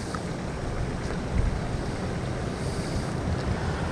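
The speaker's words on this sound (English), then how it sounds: "I hear some water over here on the right side of me, and it's probably just a water outlet" Continuous rushing water from a water outlet on a golf course pond, steady and fairly close, a broad even wash with no voices.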